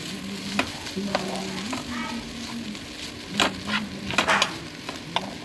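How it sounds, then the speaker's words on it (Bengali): Sandwich filling mixed with tomato sauce is stirred in a pan, giving repeated scraping and clinking strokes close by over a steady low sizzle and faint hum, no voices. "টমেটো সসটা তো দিয়ে এগুলোকে সবগুলোকে আমি ভালো করে একসঙ্গে মিক্স করে নেব"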